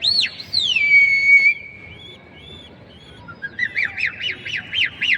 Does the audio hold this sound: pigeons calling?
yes